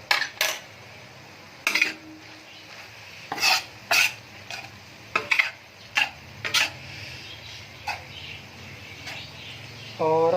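Ginger garlic paste fries in a pan for tawa keema, with a soft sizzle under repeated sharp scrapes and clinks of a spoon stirring against the metal, close and without talk.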